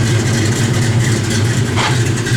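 A 1964 Chevrolet Malibu SS engine running steadily at idle, a deep low rumble with a constant throb, close and loud with no voices over it.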